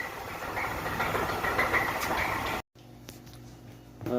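A car engine with rod knock runs with a steady rhythmic ticking knock over its idle drone, then cuts out abruptly into near silence before faint noise resumes.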